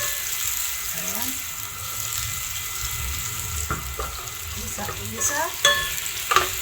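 Pork sizzling in a pan with onions while cooking Filipino menudo, a steady frying hiss with scrapes and clinks of stirring, a brief spoken word under the crackle.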